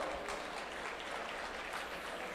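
Faint, steady applause from an audience at an autism charity gala as a guest is welcomed on stage, an even wash of clapping with no voices.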